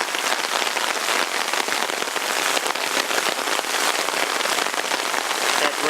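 Hard rain pours down outdoors near a roadside ditch, a dense, loud, unbroken hiss of drops hammering surfaces for the whole stretch, close and with no voices.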